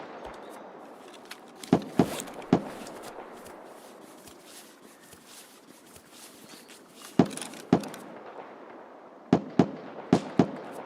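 Gunshots from a rifle firing 7.62x39 rounds in a first-person shooter video game, heard as sharp isolated cracks in small clusters over a steady background hum, with quiet gaps between the bursts.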